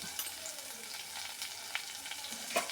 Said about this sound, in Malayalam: ഇത് ഒന്ന് ഇളക്കാം അതൊന്ന് വാടി കിട്ടട്ടെ